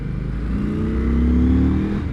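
A 2021 Indian Scout Bobber Twenty motorcycle accelerating, its engine note rising steadily in pitch with a loud, continuous rumble, heard from the rider's position without talk.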